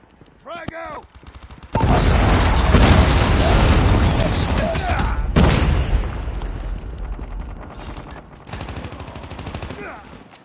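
Frag grenade blast and gunfire in a Call of Duty Frontline match, with a loud boom and sustained crackling gunfire and explosions filling most of the clip, game voice callouts over the top.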